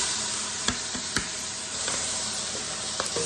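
Plenty of onions sizzle in melted butter in a pan, a steady close hiss broken by a few sharp crackles and pops.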